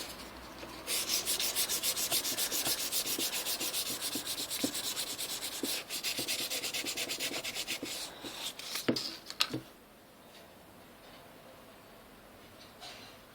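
Bass guitar frets are rubbed with 1200 grit abrasive in fast, rhythmic back-and-forth scratchy strokes. The sanding is close and fairly quiet, runs for several seconds, ends with a few sharper scrapes, then stops into near silence.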